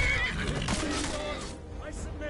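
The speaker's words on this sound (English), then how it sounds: "That's my horse getting swatted." A horse in the video game Skyrim whinnies shrilly while under attack, a loud neigh over game combat noise and hoof clatter, with a person talking over it.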